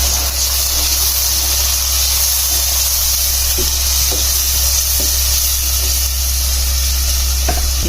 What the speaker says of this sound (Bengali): একটু পানি দিয়ে মশলাটা সুন্দর করে কষিয়ে নিই।